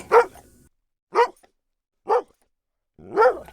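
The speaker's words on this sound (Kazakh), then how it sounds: "Ит. Ит." A dog barks four times at a steady, unhurried pace, each bark short and sharp with quiet gaps between.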